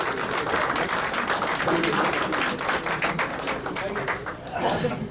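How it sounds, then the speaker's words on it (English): A farewell gathering of Indian community volunteers for Mr. T.T. George rises in a standing ovation for the officials, with busy, crackling clapping that runs continuously while voices carry over it. "Please give a standing ovation and big round of applause to the"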